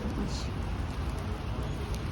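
Steady rain falls continuously on a surface, a dense even wash of drops that stays close and fairly loud throughout, with no voices.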